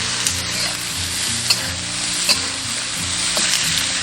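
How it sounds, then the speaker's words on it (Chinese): Beef brisket stir-fried in a wok with ginger and garlic gives a steady, loud sizzle, punctuated by a few sharp spatula clicks and scrapes as the meat is tossed. No voices. "加入姜蒜炒香，炒香过后下入牛腩，把牛腩这样炒一下，"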